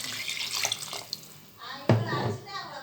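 Water runs and splashes into a cooking pot for mutton biryani, a steady rushing pour that briefly drops out before resuming.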